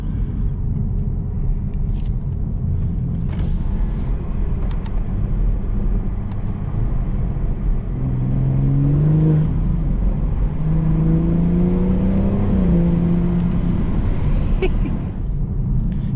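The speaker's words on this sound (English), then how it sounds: "I know you can hear the intake that time." A tuned BMW 440i accelerating on a mountain road near Deep Creek, Maryland, heard from inside as a loud, steady rumble with rising intake whooshes as the revs climb partway through.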